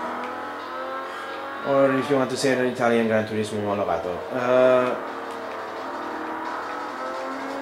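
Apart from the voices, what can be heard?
Ferrari 250 California car driving fast, from video game Forza Motorsport 3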